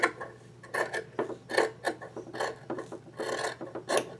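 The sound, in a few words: trimming messy fabric edge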